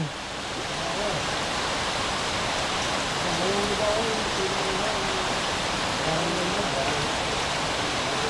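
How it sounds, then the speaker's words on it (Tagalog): Heavy typhoon rain pours down steadily in a rural farm setting, a dense, even roar of rainfall with no talking. "mga ganitong klaseng ulan"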